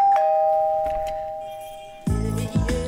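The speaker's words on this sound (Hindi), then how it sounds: "दरवाजे की घंटी बजी।" A doorbell rings with one clear, sustained electronic chime tone that slowly fades, followed by a couple of louder thuds and knocks near the end, indoors in a comedy film scene.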